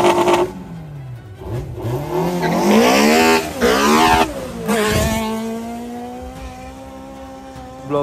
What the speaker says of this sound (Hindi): गाड़ी 3 गियर व्हील स्पिन पे जा रही है।